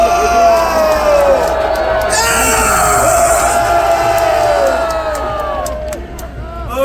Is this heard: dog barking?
no